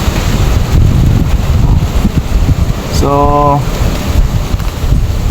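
Strong wind buffets the microphone over an open rice field, a steady roaring rush with a low rumble, and a short harmonic tone stands out briefly near the middle.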